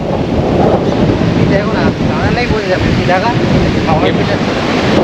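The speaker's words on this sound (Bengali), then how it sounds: "প্রচণ্ড হাওয়ার প্রেসার নিচে ইভেন উপরেও" Strong wind buffets the microphone in a constant heavy roar on the seashore of Piyali Island in the Sundarbans, with surf rumbling underneath and faint voices partly buried.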